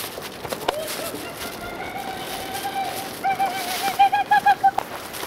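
Birds call in a quick series of repeated notes that grow louder toward the end, over steady outdoor background noise and footsteps, on a hike along the Oregon coast.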